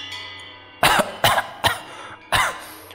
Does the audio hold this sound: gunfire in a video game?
no